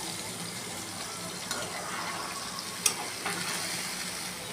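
Meat marinated in spice powders, jaggery and kasundi mustard starts frying in a pan on a stove. A soft, steady sizzle runs throughout, with a few small clicks and pops.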